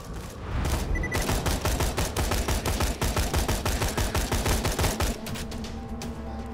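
Rapid machine gun fire in Borderlands 2, a dense run of loud sharp shots at a very fast rate for about four seconds, then stopping as lower game ambience continues.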